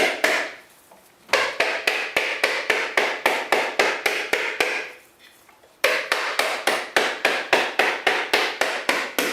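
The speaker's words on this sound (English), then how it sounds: "as we beat it like this. And a ball peen hammer is a pretty good hammer for this." A ball peen hammer beats steadily on a whole coconut, a long run of sharp, hard knocks in even rhythm, close and loud, with two brief pauses between bursts.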